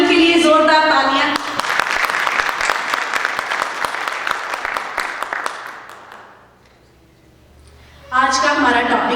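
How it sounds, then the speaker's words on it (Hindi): A church audience gives loud applause for a pastor, a dense burst of clapping that swells, then fades away to near silence, bracketed by someone speaking before and after. "पास्टर मैनुअल के लिए जोरदार तालियां"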